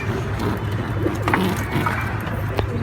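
Pigeons cooing close by in a soft, repeated throaty rhythm, with some light rustling and faint background noise.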